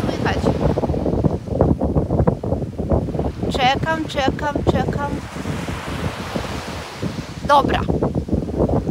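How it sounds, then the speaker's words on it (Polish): Sea waves and wind at the shore give a continuous rushing roar with surging swells and buffeting wind noise on the microphone, while someone talks briefly over it. "Więc pokazuję piękne morze."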